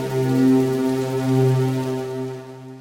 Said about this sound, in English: So now our completed synthesizer patch sounds like this.